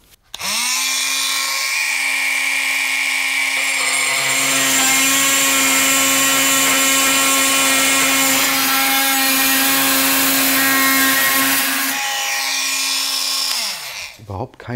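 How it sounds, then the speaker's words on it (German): A Fein MultiTalent AFMT 12 QSL oscillating multitool cuts a thin strip from the edge of 4 mm brass, giving a loud, steady high-pitched buzz that spins up, holds for about eleven seconds with a harsh grinding edge, then winds down. "Ich fange an hier mit den 4 mm Messing und probiere jetzt hier am Rand einfach mal einen dünnen Streifen abzuschneiden."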